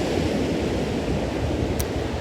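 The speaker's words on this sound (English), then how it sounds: "It's kind of a windy morning, so we'll just hope for the best." Wind blows steadily, a loud broadband rush with low rumbling buffeting, like gusts hitting a microphone outdoors near surf.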